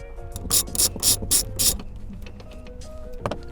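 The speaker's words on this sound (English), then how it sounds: "adjust the vehicle seat to move back as far as I can and start removing the 4 bolts" A ratchet wrench with a T50 socket loosens seat bolts inside a Lexus, giving five quick, loud clicking bursts in a row, followed by quieter metallic fiddling and one last short click.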